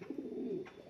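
A pigeon gives a soft, low, throaty coo lasting about a second, faint and close with quiet background.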